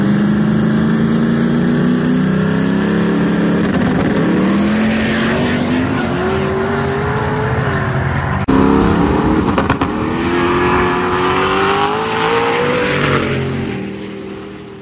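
Drag race car at a Colorado no prep race, its engine revving hard and loud, climbing and falling in pitch through repeated pulls over about fifteen seconds, with a brief break partway through.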